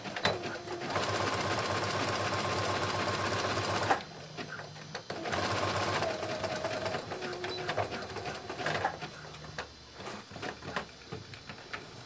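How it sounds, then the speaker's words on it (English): A sewing machine runs a zigzag top stitch on swim dress fabric in close, rapid bursts, a long steady run followed by shorter starts and stops with faint clicks between. "So now I'm going to just top stitch, zigzag stitch to close this opening right along here."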